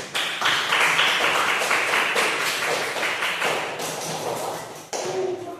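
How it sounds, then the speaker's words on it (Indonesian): Applause from a classroom audience for the first discussion group: a steady, dense patter of many hands clapping at close range for about five seconds, with a brief dip near the end before it resumes. "Kasih tepuk tangan untuk kelompok 1."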